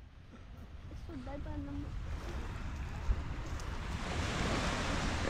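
Ocean surf and wind wash over Pui O Beach in Hong Kong on an overcast day, a soft continuous rush that builds toward the end. A short voice is heard early on.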